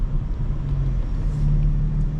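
A 2025 BMW M4 Competition xDrive rumbles with a low, steady engine drone from inside the cabin while cruising city streets at night.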